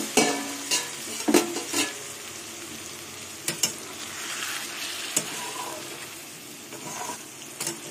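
A little water poured into a pan of spice-coated fish sets off a steady, close sizzle, broken by several sharp clanks and stirring scrapes of a utensil against the pan.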